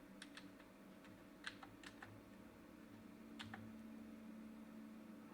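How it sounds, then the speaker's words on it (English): Computer keyboard keys pressed in scattered bursts of sharp clicks, close and moderately loud over a steady low hum, with no talking. "I'm just pressing keys just to figure out what's the best way to open this stuff"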